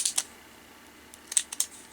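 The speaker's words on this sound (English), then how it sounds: "I just simply took my a pair of decorative scissors, and I just kind of went around and trimmed" Decorative scissors trimming the edges of paper for a paper flower, giving a few short, crisp snips close by, with a quiet gap between two small clusters of cuts.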